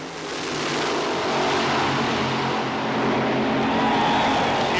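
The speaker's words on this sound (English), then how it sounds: "In one of the closest races of the day, Mark Oswald won over Don Prudhoe" Loud roar of a 1988 NHRA drag racing final pitting two competitors' cars, sustained engine thunder and crowd-level rumble filling the whole stretch without a break.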